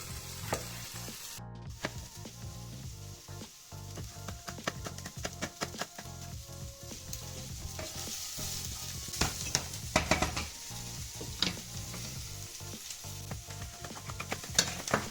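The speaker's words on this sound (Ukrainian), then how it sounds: "Поки у нас сосиски з цибулею жарються" Steady, loud sizzling of sausages and onions frying in a pan, with occasional scrapes and clinks of stirring, no voices.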